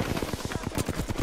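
Rapid automatic gunfire from the video game Apex Legends rattles out in a fast, continuous burst of close, loud shots with no break.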